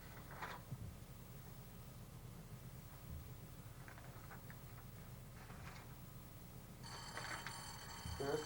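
A telephone rings near the end, a steady bright electronic ring over a low, continuous background hum, with faint clicks and rustles earlier.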